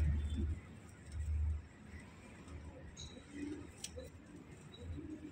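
Pigeons kept as birds for sale give soft, low coos in a few brief bursts, faint and close, with quiet human voices murmuring in the background.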